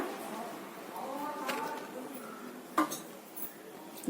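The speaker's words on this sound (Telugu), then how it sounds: "ఇప్పుడు ఇవన్నీ చక్కగా కలుపుకోవాలి" A spatula stirs a dried coconut mixture for kootu in a pan, giving soft scraping and one sharp metallic clink midway, with a voice speaking over it.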